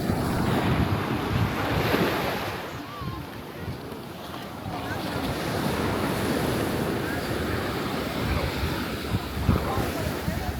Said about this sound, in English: The waves are crazy, man.